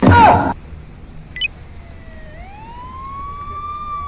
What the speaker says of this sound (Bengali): আরে পুলিশের গাড়ি শব্দ